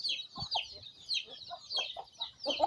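Native Bisaya chickens and newly hatched chicks on a farm: a chorus of high, rapid peeping from many chicks under soft clucking from the hens, moderately close and continuous.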